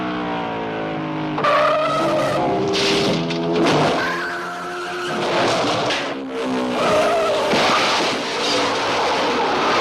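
Race cars skidding during a racing film sequence, loud screeching tyres and roaring engines rising and falling in overlapping waves, several swells of squealing across the stretch.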